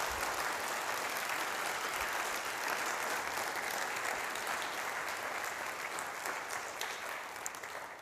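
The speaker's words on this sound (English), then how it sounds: "let's give them a round of applause for the amazing work they did" Sustained audience applause at a conference event, a dense, steady wash of clapping hands from a large crowd lasting throughout and tapering slightly at the end, with no talk over it.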